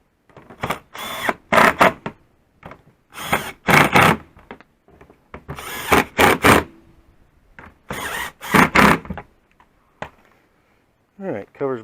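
Hand tools turn an Infiniti's serpentine belt tensioner clockwise to tighten it. Repeated short clusters of ratcheting clicks and metallic clatter come close up with quiet gaps between, and a brief voice at the very end.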